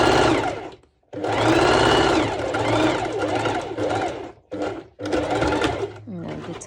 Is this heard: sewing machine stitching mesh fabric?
yes